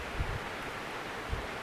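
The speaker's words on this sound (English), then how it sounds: "It's windy and it's cold, but it's always windy and cold up here." Steady gusting wind on a mountain at a ski resort in winter buffets the microphone with a low rumbling roar and broadband rush, swelling briefly in a couple of thumps.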